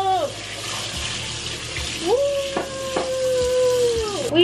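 Water poured from a small peach-coloured bowl into a dirty kitchen sink, a steady splashing run lasting several seconds with a brief break partway through, close and moderately loud with no talking.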